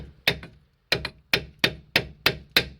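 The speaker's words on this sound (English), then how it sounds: "I'll do a couple of hits with the hammer." Seven sharp metallic hammer strikes on a seized suspension part of a Chevrolet Matiz, an isolated first blow followed by a quicker, fairly regular series of hits, close and loud.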